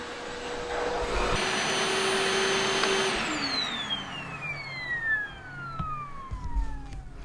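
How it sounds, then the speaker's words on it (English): A Milwaukee M18 cordless vacuum, model 0885-20, runs close by with a steady whirring whine that drops in pitch partway through as the motor slows, with no talk. "So this is a legitimate vacuum for picking up stuff."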